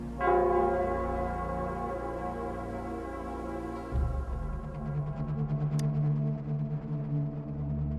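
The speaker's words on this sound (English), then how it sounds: "It's the Nell Square's bell." Nell Square's bell in Wuthering Waves tolls with a rich, sustained harmonic ring that decays slowly, then a second deep strike swells in low and heavy, layered over a faint high shimmer.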